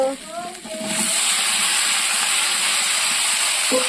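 Boiled jackfruit pieces being sautéed with spices in a hot pan: after a brief quieter start, a loud, steady, close sizzling hiss runs unbroken to the end.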